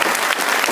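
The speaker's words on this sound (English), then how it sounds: "Let's give them a nice round of applause." A brief, close burst of audience applause, dense and even clapping throughout the short moment.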